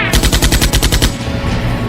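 A cartoon explosion effect bursts out as a rapid, loud string of crackling pops, like rattling gunfire, for about a second before thinning into a rumbling tail.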